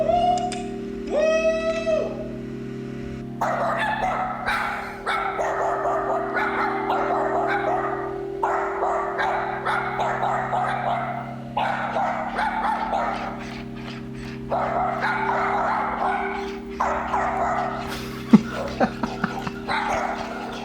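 A real dog barks and yips in repeated bursts at a Spot robot dog, with a few whimpers at the start and a steady background hum underneath.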